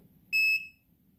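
A Kiara Sky Beyond Pro gel nail lamp gives a single electronic beep, clear and fairly loud, lasting about a quarter second over a quiet low hum.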